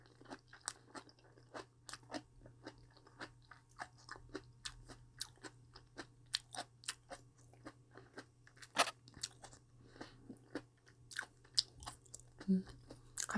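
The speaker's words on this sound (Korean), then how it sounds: "삶은 것끼리만 한번 먼저 먹어볼게요" Boiled potato and carrot chewed close to the mic, with a long run of rapid, crisp crunching bites and wet mastication, quiet but clear, no talking.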